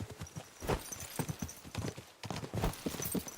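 Horse hooves galloping in the video game Kingdom Come Deliverance II: a close, loud, rhythmic clip-clop of hoofbeats driving steadily throughout, with faint voices in the background.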